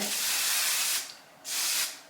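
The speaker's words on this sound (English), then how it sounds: "spray it with this IGK again" Two bursts of IGK hair spray hiss onto hair during a salon-style blow-out, a long spray followed by a shorter one after a brief pause, close and alone.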